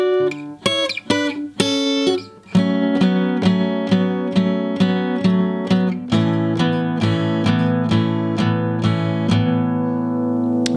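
Acoustic guitar playing the intro of a song slowly, with a few quick strums and then a steady run of evenly spaced plucked chords ringing clearly, close and loud, with no talking.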